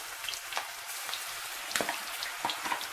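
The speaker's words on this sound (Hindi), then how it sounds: "इसको एक फ्राई देना है क्योंकि हम क्रिस्पी भिंडी मसाला बना रहे हैं" Okra (bhindi) fries in a pan for crispy bhindi masala, giving a steady, moderately quiet crackle with a few sharper pops scattered through, and no voices.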